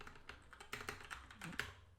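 Quick, light clicks of fingers typing on a computer keyboard, a rapid irregular patter of keystrokes lasting a couple of seconds, close and fairly quiet with no voices.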